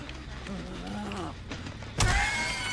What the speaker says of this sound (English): Oh, that's a car.